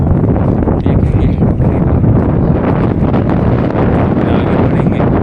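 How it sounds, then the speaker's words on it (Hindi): Steady wind blows across the microphone on a Narmada river bank near a ghat, a continuous loud rushing roar with low-frequency buffeting throughout. "बहुत सुंदर हवा चल रही है, ठंडी ठंडी हवा मैया के किनारे"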